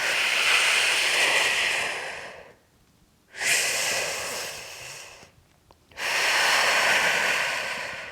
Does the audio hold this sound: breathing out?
yes